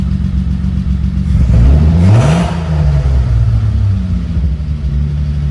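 An Acura Legend coupe engine is revved once, the pitch climbing sharply to a loud peak and then falling back to a lower, steady idle, heard close with no voices.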